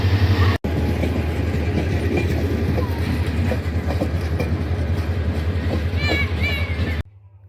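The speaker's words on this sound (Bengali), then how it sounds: "বিজয় এক্সপ্রেস ভৈরব জংশন ছেড়ে যাচ্ছে" The Bijoy Express pulls out of Bhairab Junction with a steady, loud rumble and wheel clatter, a brief thin squeal near the end before it cuts off abruptly.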